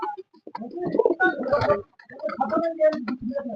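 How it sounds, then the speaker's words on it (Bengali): Cooing from a white Lakka fancy pigeon, several soft throaty phrases close by, mixed with other bird calls in a home pigeon loft. "আমাদের সাদা লক্ষাটা ডাকাডাকি করছে"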